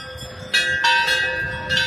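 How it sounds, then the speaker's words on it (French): Visitors strike temple bells at Hampi, India, producing a few ringing metallic clangs that overlap and sustain, loud and close against outdoor ambience. "il y a des cloches, ils tapent tous dans les cloches"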